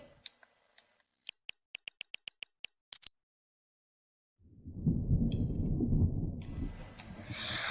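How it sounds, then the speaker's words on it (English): A thunderstorm in a video game begins with a quick run of sharp ticking clicks, then after a silent pause a deep rolling rumble of thunder swells and carries on to the end. "The storm's coming."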